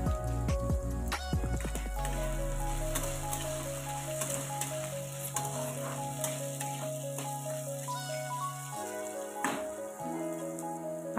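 Cauliflower, beans and chopped green chilli stir-fry in a pan, giving a soft, steady sizzle and occasional stirring scrapes beneath prominent sustained background music.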